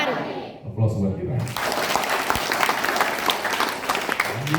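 Audience clapping at a home sharing gathering: a brief voice at the start gives way to a dense, sustained wash of applause from a crowd, steady and loud throughout.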